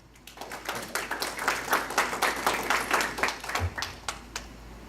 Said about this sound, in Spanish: Vamos a recibir con un fuerte aplauso